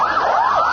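An ambulance siren in Beirut, Lebanon, wails loud and close, its pitch sweeping up and down in a rapid wavering cycle.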